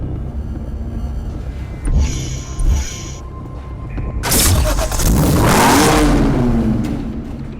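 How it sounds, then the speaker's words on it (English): Jaguar XKR with a 5-liter supercharged V8 in the Need for Speed Hot Pursuit Remastered racing game, the engine idling and then revving hard into a loud, sustained roar that rises in pitch. "Powered by Jaguar's 5-liter supercharged V8 engine, it is the finest expression of XK power and performance."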